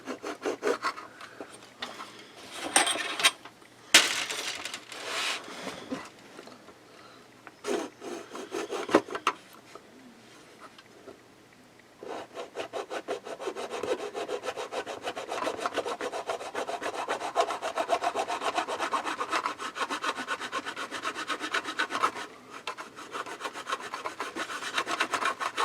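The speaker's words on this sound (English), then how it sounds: "I'm gonna just go for this little hobby saw" A small hobby saw cuts through a plastic model kit piece with rapid rasping back-and-forth strokes, close up. Short bursts with pauses come first, then a long, steady run of sawing.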